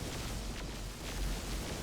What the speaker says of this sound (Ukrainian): Полетіли ракети від смерчів.